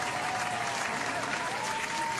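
Clapping from a crowd at a college freshers' welcome event, a dense, even burst of applause sustained for a couple of seconds with faint voices underneath.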